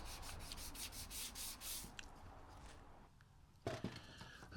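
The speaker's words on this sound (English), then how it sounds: "Just give it a quick hand sand just to clean it up a little bit." Hand sanding a small piece of wood just trimmed with a Japanese saw: steady rhythmic scratchy rubbing strokes up close for about two seconds, then quieter, with a brief louder rub near the end.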